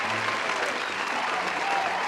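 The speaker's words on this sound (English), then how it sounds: "That's right. Cheer for Amity." A short burst of steady studio-audience clapping and cheering, dense and even throughout, heard alone without talk.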